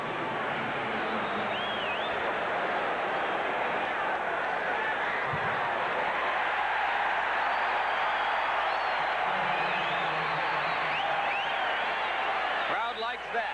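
A large stadium crowd at a 1987 Minnesota Vikings vs Los Angeles Rams football game roars and cheers in a steady, loud, sustained wash with scattered whistles and shouts, and a voice speaks briefly near the end.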